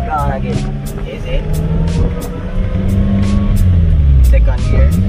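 A manual-transmission car pulling away in first gear, its engine droning and rising steadily under the throttle, heard from inside with a voice talking over it.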